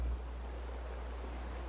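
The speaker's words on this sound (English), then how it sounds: "Ooh, the waves are strong." Strong ocean waves from the survival game Raft, heard as a steady, loud, broad wash of surf and wind with no distinct breaks, continuous throughout.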